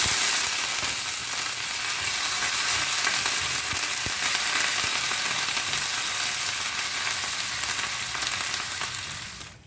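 Curry leaves sizzle in hot coconut oil with mustard seeds and dried red chilli for a bitter gourd curry, a loud, steady, crackling hiss that holds for nearly ten seconds before cutting off.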